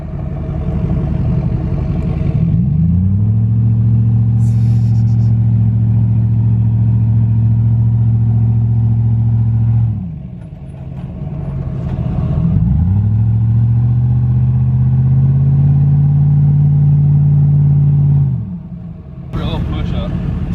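A two-wheel drive vehicle strains off-road, its engine droning loudly and rising under load in two long pushes separated by a brief easing off, with a voice speaking over it.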